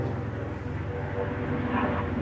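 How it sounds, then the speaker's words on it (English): A fixed-wing airplane passes overhead as a faint, steady low rumble with a broad hiss that swells slightly toward the end, with no voices. "now we got what? An airplane?"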